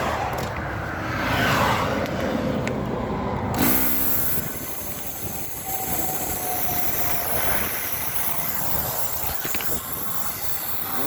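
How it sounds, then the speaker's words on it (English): Vehicles rush past on a busy highway in a continuous roar with shifting swells as individual cars go by close to the roadside, no voices over it. "Cars are zooming by"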